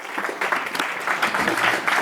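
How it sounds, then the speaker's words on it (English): An audience at a religious inspirational talk event claps to welcome the speaker onto the stage, a brief burst of moderately loud, uneven applause. "Round of applause, please."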